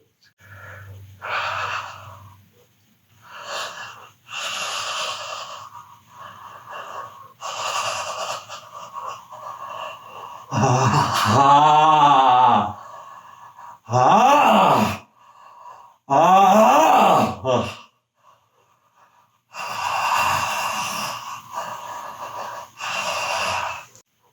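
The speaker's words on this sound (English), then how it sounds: "Try to do like 20 deep breaths and hold yourself there." Deep, forceful breathing during a bioenergetic release exercise: a series of loud, strained inhales and exhales, some wheezing or moaning, in bursts separated by short pauses, close and alone without talk.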